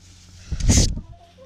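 A hen gives a short burst of clucking and wing flapping, close and fairly loud, then quiet barnyard background.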